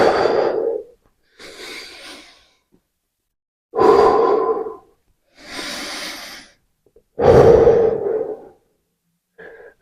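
Deep yoga breaths, in and out, come in slow alternating cycles: three strong, close exhalations with softer, airy inhalations between them, separated by brief silences.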